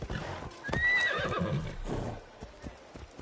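A horse in the video game Assassin's Creed Shadows whinnies loudly and close by, followed by snorting and clip-clopping hooves as the ride begins, with no one talking.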